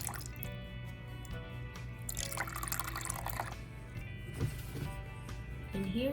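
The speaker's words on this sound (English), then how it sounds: "Now I'm adding water in the same bowl." Water is poured into a bowl, a quiet run of dripping and splashing with a few brief louder spills near the middle and end.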